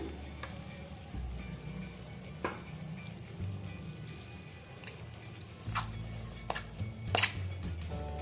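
A spoon works cashew powder into sugar syrup in a pan over low heat, with soft intermittent scrapes and clinks against the metal over a quiet background.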